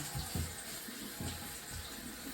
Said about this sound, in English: I'm running cold water on my corn because I'm hungry.